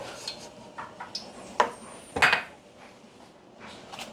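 A metal utensil scrapes and clinks inside a pot as garlic is lifted out of the oil, with a few light taps and then two sharper clattering knocks.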